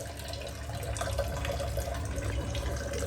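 A new filter tap runs with a steady, close stream of water splashing into a sink, constant and unbroken throughout with no talking.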